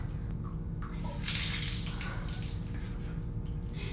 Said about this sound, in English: It won't stop dripping water.